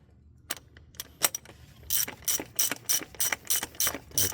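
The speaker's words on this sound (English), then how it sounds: "tighten our output cap housing, whatever you can call it, until it stops moving" A hand ratchet tightens the oil filter cap housing on a 2017 Audi A3 Quattro 2.0 turbo. A few separate clicks come first, then repeated bursts of rapid, close ratcheting.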